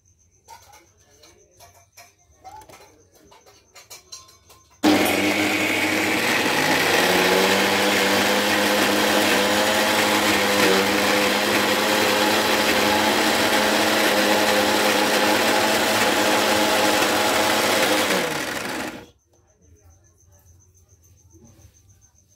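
A small electric mixer grinder jar grinds soaked moong dal for vada batter, a loud steady whir with a slight pitch drift that starts abruptly, runs for about fourteen seconds and cuts off, with quiet room noise before and after.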